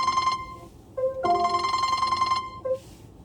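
A telephone rings with a repeating electronic tone in short bursts, clear and alone, with no talk over it.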